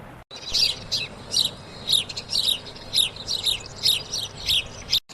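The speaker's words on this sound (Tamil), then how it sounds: "என்ன இனிமையான சிட்டுக்குருவி சவுண்டு" A sparrow chirps in a quick series of bright, high tweets, about a dozen short bursts in irregular rhythm, clear and fairly close over quiet background.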